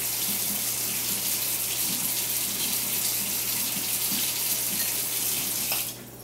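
Water runs steadily from a tap while preparing yeast water for winemaking, a continuous loud hiss and splash lasting several seconds before the flow is cut off near the end.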